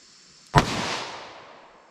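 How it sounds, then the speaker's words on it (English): A single close, sharp gunshot from a Ruger LCR revolver firing a .32 H&R Magnum +P round, with a sudden crack followed by a short fading echo. "So let's see what I can get in my LCR with these rounds."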